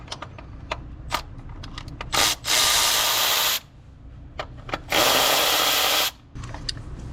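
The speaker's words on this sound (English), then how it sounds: "So now we need a 10mm. We'll take these 4 bolts out here," A power tool spins out the 10mm coil pack bolts on a 2.5L Nissan Rogue engine, two loud sustained whirring bursts up close, surrounded by small clicks and handling clatter.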